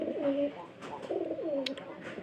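Pigeons coo softly in a loft in a low, rolling, repeated rhythm, several calls overlapping at close range, with faint rustling in the background.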